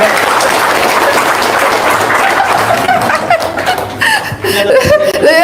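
An audience at an Indonesian religious talk breaks into laughter and applause, a dense, loud wash of chuckling and clapping that continues steadily throughout.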